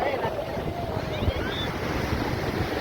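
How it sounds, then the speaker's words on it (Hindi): Sea waves wash up onto the sand at Dhanushkodi beach in Tamil Nadu as the tide comes in, a continuous near surf wash mixed with wind noise, and faint tonal sounds drift in the background. "इस समय धनुषकोडी में लहरें थोड़ा आगे तक आने लगी हैं"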